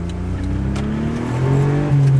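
A Daihatsu kei car engine revs up close from the cabin at a drift outing in Japan, its drone climbing in pitch and growing louder in two surges.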